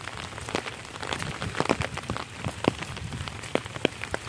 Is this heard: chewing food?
no